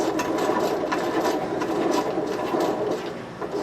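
A T96 three-speed manual transmission being turned over by hand during assembly, its gears whirring and ticking in a steady, close, continuous mechanical rattle with no talk.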